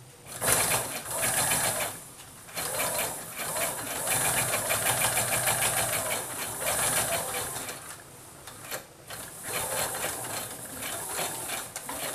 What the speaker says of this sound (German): verriegeln nicht vergessen und absteppen mit 1 cm Nahtzugabe